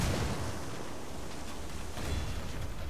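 Grenade explosion in the video game Ghost Recon Wildlands, a loud, sustained rumbling roar that fills the whole stretch with dense low-end noise and no quiet gaps.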